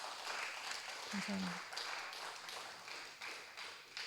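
Audience applause for a sister at a Thursday church gathering: soft, steady clapping from a small crowd, with a brief spoken thanks over it.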